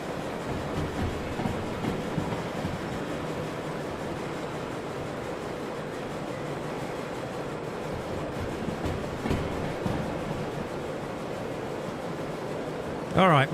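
An S282 steam locomotive works hard under open throttle in Derail Valley, a steady rumbling chuff and rolling rail noise that stays even and continuous throughout.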